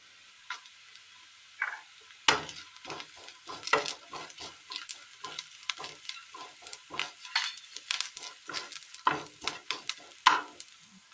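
Onions and curry leaves fry in a pan in a quiet kitchen, giving sparse, sharp crackles and pops scattered irregularly, close and fairly faint.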